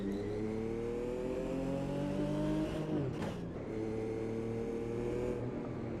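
Gen 3 Formula Retro car's turbocharged engine in Automobilista 2, droning steadily as revs climb, then a sharp gearshift with a brief whoosh before the pitch builds again; close, continuous and alone.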